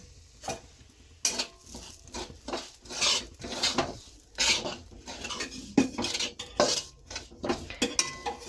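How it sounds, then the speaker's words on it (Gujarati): A metal spoon scrapes and clatters against a pan in steady, repeated strokes as semolina is stirred and roasted in ghee, with a faint sizzle underneath. "આપણે 2 ચમચી ઘી જેટલું ઘી લઈ લીધું છે ને તેમાં આપણે રવાને શેકી નાખવાનો છે"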